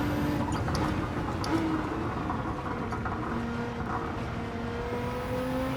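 A 1000-horsepower Nissan GT-R R35 races in Gran Turismo 7, its engine a steady, loud drone with whirring tones that hold and shift slightly as it pulls along, with no talking over it.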